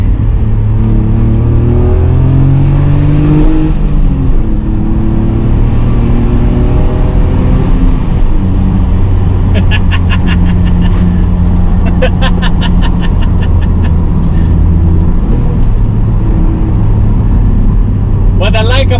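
A BMW 525i E34 engine heard while driving, low steady drone with rising and falling revs through gear changes, close and loud, with some clicking mechanical sounds along the way.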